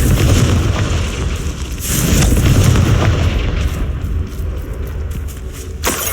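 Confringo spell explosion in the video game Hogwarts Legacy, a loud booming blast with rumbling crackle that rolls on for several seconds, followed by a second sharp burst near the end.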